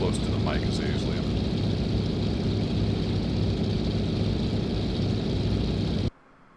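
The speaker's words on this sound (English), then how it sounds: "this is a really loud airplane" A single-engine propeller airplane in the X-Plane 10 flight simulator drones loudly and continuously at close range, with a brief voice-like chirp early on, before cutting off abruptly near the end.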